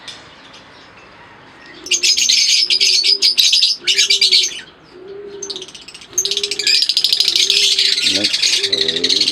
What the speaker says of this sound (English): Next aviary lovebirds cocktails.